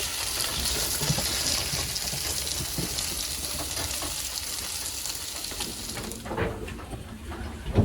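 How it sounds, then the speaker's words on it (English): Tacos frying in a pan on a small stove aboard a sailboat, a steady close sizzle and crackle with faint stirring scrapes, no talking. "Making tacos"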